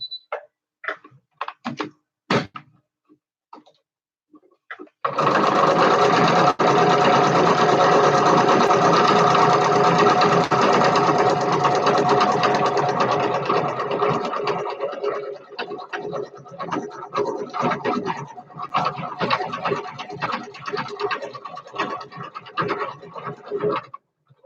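A sewing machine stitches buttonholes: a few scattered clicks and taps, then a loud, fast, continuous whirring run for about ten seconds that breaks into choppier bursts of stitching, close up with no talking.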